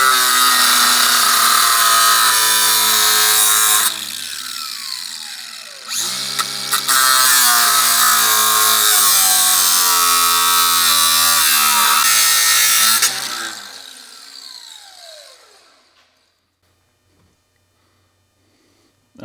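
A power tool grinds through a thick steel chunk on a Subaru STI, a loud high-pitched whine biting into metal with a brief dip mid-cut, then the motor spins down and fades to near silence.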